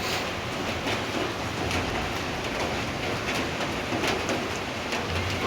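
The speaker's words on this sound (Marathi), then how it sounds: "पाऊस कंटिन्यू चालू आहे" Steady continuous rain pours down on a monsoon day, a dense unbroken hiss with scattered drop patter throughout and no voices.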